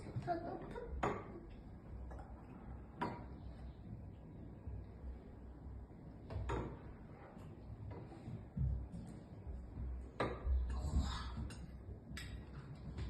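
Baking soda is spooned into a bowl for a volcano experiment at a kindergarten, heard as faint, scattered clinks and taps of the spoon against the bowl in a quiet room.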